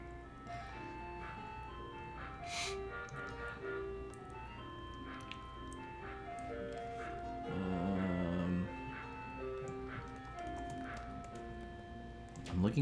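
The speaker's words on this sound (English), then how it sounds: "How is there a ice cream truck at 8 p.m.?" Ice cream truck jingle playing outside in the evening, a faint tinkling melody heard from a distance with a louder swell partway through, under occasional indoor sounds and talk.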